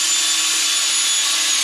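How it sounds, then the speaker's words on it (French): A cordless screwdriver drives a knock-in anchor into a floor rail for a cupboard build, a loud, steady high whine held close for the whole stretch, with no talking. "avec la visseuse"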